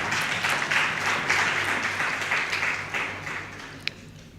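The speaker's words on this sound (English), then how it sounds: "I think you should give a round of applause for." Audience applause at a UNICEF meeting in 2014, sustained clapping from a room of delegates that slowly fades out, ending with one sharp clap.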